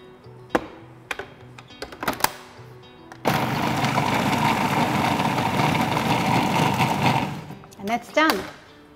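A food processor whirs steadily for about four seconds, blending a gluten-free lemon tart base with pecans. The motor noise is loud and continuous, with a voice speaking before it starts and again after it stops.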